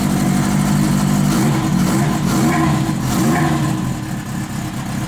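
A Honda CB900 motorcycle engine runs on choke, holding a loud, steady rev with a low rumble and easing back slightly near the end.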